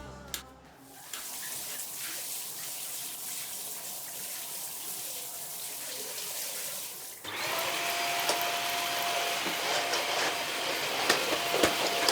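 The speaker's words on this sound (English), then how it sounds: "So I always vacuum first before mopping the floor." Vacuum cleaner running on a bathroom floor during house cleaning, a steady whooshing drone that shifts to a louder, harsher pitch partway through, continuing alone without talk.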